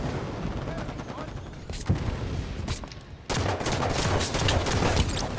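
Gunfire in a first-person video game shooter, with a dense, continuous volley of shots and sharp loud bursts. Talk runs over parts of it.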